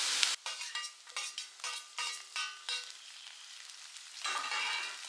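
Finely chopped tomato stirred into sautéed onions in a pan, with a hiss and sizzle at the start, then repeated scraping strokes in a steady rhythm, close and fairly loud, and the sizzle swelling again near the end.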